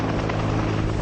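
A salvage helicopter over the wreck of the m.v. Rena, a steady loud rotor thump and engine drone, close and continuous.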